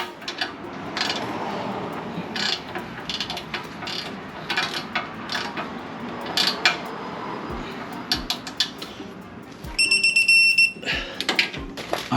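A torque wrench ratcheting while a ball joint bolt on a Toyota Sequoia is tightened, a series of fast clicking ratchet strokes, close up, with a sharp chirp near the end.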